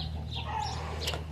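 Free-range chickens on a farm give a brief burst of soft clucking, fairly faint over a low background hum.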